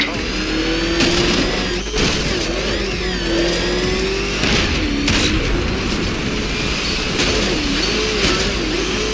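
A car engine revs hard in Batman: Arkham Knight, climbing and surging through several loud accelerations amid game effects and a voice speaking.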